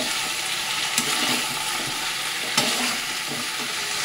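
Pumpkin frying and being stirred into a chicken masala in hot oil, a steady close sizzle with a couple of sharp spoon scrapes and clatters against the pan.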